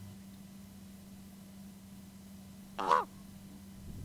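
A raven in a park gives one short, croaking caw at a distance against a steady low hum, otherwise quiet.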